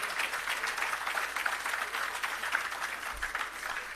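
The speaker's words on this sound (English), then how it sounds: "That deserves a big round of applause." A faint, steady round of audience applause at an outdoor commissioning ceremony for an irrigation system and agro park, with dense clapping continuing for several seconds and no talking.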